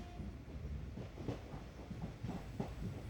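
The Matsyagandha Express rolls into Mulki station during the monsoon, a low rumble of wheels with soft rhythmic clacks over rail joints, heard from inside a coach, fairly quiet and steady.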